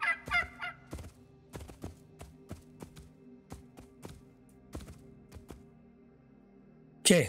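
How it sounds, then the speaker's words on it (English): Chickens in the video game Soulmask cluck and gobble in a sparse series of sharp calls, fairly quiet against a steady low electronic hum, ending with a louder burst. "Those are chickens, right?"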